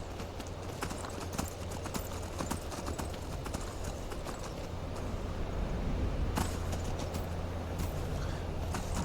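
Horse hooves clip-clop at a steady rhythm as riders travel into a ruined town in Skyrim, the video game, over a low constant ambient drone, fairly loud and continuous with no talking.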